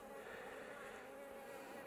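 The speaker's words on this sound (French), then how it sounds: "Là je vois qu'il y a une abeille dans le..." A single honeybee buzzes steadily on a beehive frame, a faint continuous drone held close for a short moment.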